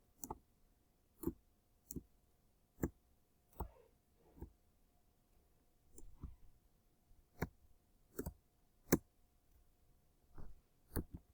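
Sparse, sharp computer keyboard clicks, including the Enter key, tap out at irregular intervals, close and fairly faint, with quiet gaps between the presses.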